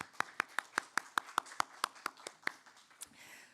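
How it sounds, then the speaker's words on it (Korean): Sparse, distinct claps ring out in a church during Sunday worship to congratulate a member, about a dozen sharp, evenly spaced hand claps in a roomy space, then trailing off. "박수로."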